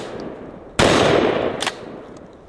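A single loud gunshot from a small, lightweight 100-year-old trench shotgun with no recoil pad, a sharp close blast that fades quickly, followed by a brief echo or secondary crack.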